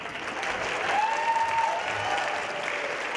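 Audience applause at a high school winter concert, a steady wash of many hands clapping in a hall, moderately distant and continuous throughout.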